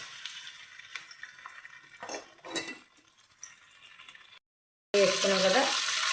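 Pieces of country chicken tumble into onions cooking in a kadai, with clattering and stirring scrapes, then a sudden loud sizzle near the end.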